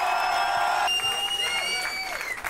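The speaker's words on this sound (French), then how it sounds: "Faites un maximum de bruit pour Wojtek et l'unique" Crowd at a French rap battle event cheering and applauding for the rappers, a steady roar of noise with a sustained tone running beneath it.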